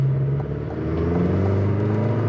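A 2023 Chevy Colorado Trail Boss pickup with an 8-speed automatic launches from a standstill up a long, steep mountain grade. Its engine drones steadily and loudly, with a deep rumble that rises under acceleration and no voices.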